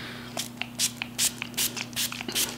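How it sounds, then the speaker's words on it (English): A series of short, hissing bursts of makeup setting spray onto a face, repeating at a steady pace, about a dozen quick spritzes close by over a faint electrical hum. "I'm just going to set my face with the Kiss Pro Touch Setting Spray."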